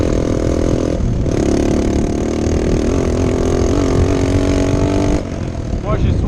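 A motorcycle engine revs on dirt terrain, a loud buzzing drone that rises and shifts in pitch over several seconds. It drops away abruptly near the end, leaving quieter rumbling.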